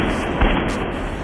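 Close-range gunfire in a film shootout scene where a former hitman and a detective battle a mysterious bodyguard, heard as a dense, loud, continuous roar of shots with one stronger burst near the middle.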